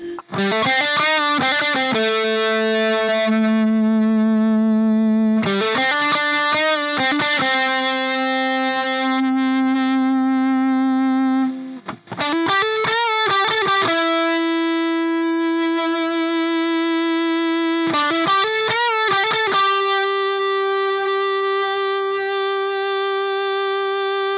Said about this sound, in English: So yeah, it's a distortion and a feedbacker.